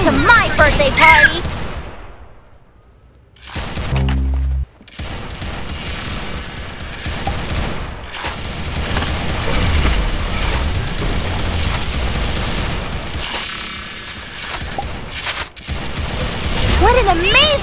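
Gunfire from an online first-person shooter game: rapid bursts and single shots crack loudly in dense volleys, with a brief lull, while game voices and chatter run underneath.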